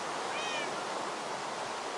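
Brief meow from a cat in the Minecraft video game, a short rising-falling tone near the start over a steady hissing background.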